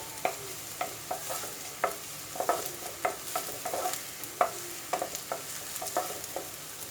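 Onions frying in a pan for Kerala egg roast, stirred with a utensil in a steady series of soft scraping taps over a faint, constant sizzle, quiet and close.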